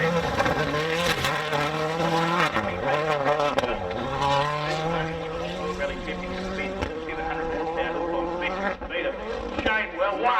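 A Ralliart AP4 rally car races down a gravel hillside course at a hillclimb event, its engine revving continuously and loudly with rising and falling pitch as it shifts, under a commentator's steady talk.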